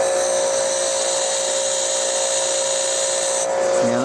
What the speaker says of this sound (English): put my tungsten into a electric drill and sharpen them out like so